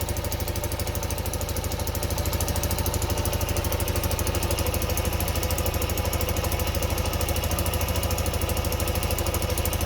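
A Honda XL125S motorcycle engine idles after a kick start, a loud, close, even single-cylinder chugging that holds steady throughout with no voices.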